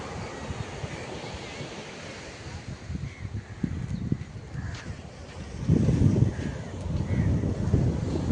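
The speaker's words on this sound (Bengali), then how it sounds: "এখানে একটা দারুণ ঠান্ডা হাওয়া বইছে।" Cool wind blows across a beach in South Goa, buffeting the microphone in low, gusty rumbles that strengthen toward the end, with faint surf underneath and no clear speech.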